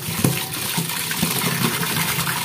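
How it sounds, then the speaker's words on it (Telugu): Fresh coriander is rinsed under a running tap, giving a close, steady splashing gush of water with small irregular spatters as the leaves are moved through the stream. "ఇప్పుడు ఇది మనం చక్కగా వాటర్ కింద కడిగేసేసుకున్నాము."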